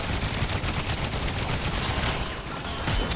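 Tank machine guns in the game Trailmakers, including a hull-mounted gun, fire in a dense continuous rattle of rapid shots, loud and sustained throughout without talk.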